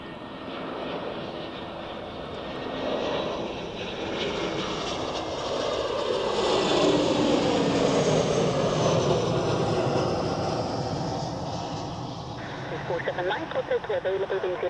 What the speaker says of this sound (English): next we have an A321 from Brussels